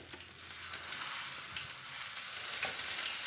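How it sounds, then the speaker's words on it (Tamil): Moong dal dosa batter sizzles on a hot tawa, a close, steady crackling hiss with small pops scattered through it. "தோசை ஊற்றிக்கலாம்."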